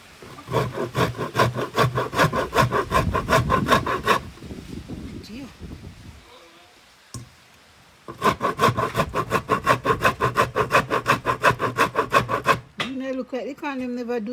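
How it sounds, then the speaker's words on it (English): Fresh corn is rubbed on a hand grater in an off-grid Jamaican kitchen for old-fashioned corn dumplings. Loud, rhythmic rasping strokes come in two long runs split by a pause, and a voice follows at the end. "Use the grater, and I'm going to grate the corn."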